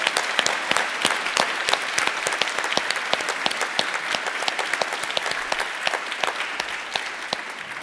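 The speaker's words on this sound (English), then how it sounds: "I would like to give them a big applause." An audience at the Igor Zabel Award 2022 ceremony applauds, a dense, sustained round of clapping with distinct individual hand claps standing out, steady and fairly loud throughout.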